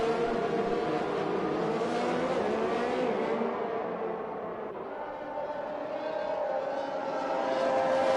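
Sim-racing cars trailing a safety car down a long back straight in an eRacing league round at Canada, a steady, moderate engine drone with gentle pitch changes as the pack holds speed.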